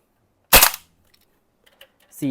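A WE AK-74 gas blowback airsoft rifle fires a single loud, sharp crack up close, followed by near silence with faint handling clicks and a brief voice at the end.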